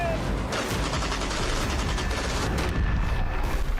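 Army guns fire during an anti-tank exercise near a mountain border, a dense continuous roar of gunfire and rumbling blasts with a steady, loud wash of noise throughout.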